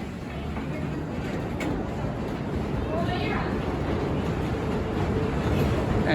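Grizzly wooden roller coaster train at Kings Dominion rolling out from the station, a broad low rumble and rattling clatter that builds steadily, with wind noise and crowd voices and announcements over it.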